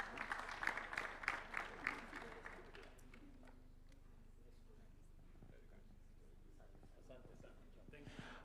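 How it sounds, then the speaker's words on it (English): Applause at a Kenyan state event for the Deputy President and Prime Cabinet Secretary: a short burst of clapping that fades after about two seconds, leaving a quiet room with faint murmurs and shuffling. "Give them a round of applause"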